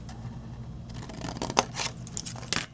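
Scissors cutting paper or cardstock for a flip-lid gift box, a few close snips and slicing scrapes after a quiet start, with no talk.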